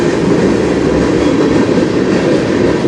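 Loud, close train rumbling steadily past on the tracks in Sarnia, Ontario, a dense continuous roar of rail cars with no pause, alone without voices.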